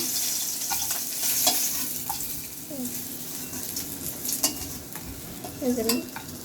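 Fish fries in hot oil in a home kitchen, giving a dense, continuous sizzle, with occasional clinks and scrapes from stirring, heard up close.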